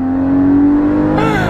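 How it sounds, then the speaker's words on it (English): A Porsche Cayman GT4 exhaust drones at a steady idle, then blips sharply into a louder, higher rev near the end, close and loud. "just listen to this exhaust"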